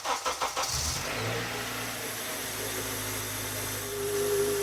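A 2004 Honda Accord engine cranks with a few rapid chugs after a power steering pump replacement, then catches and settles into a steady idle that swells slightly at the end.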